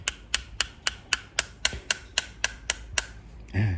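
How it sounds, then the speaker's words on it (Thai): A pin is tapped into a Glock 34 BB gun with a small hammer: about eleven sharp, evenly spaced metallic knocks, close and clear, followed by a brief rustle at the end. "ก็ค่อยๆตอกเข้าไป จนสุด"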